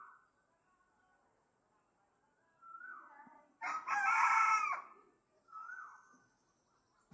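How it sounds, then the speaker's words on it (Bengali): A three-year-old hen that once laid eggs and has turned rooster-like lets out one loud, close crow in the middle, with softer clucking calls before and after it in an otherwise quiet village setting. "সে মোরগের মতো ডাক দেয়।"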